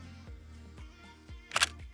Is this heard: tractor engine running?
no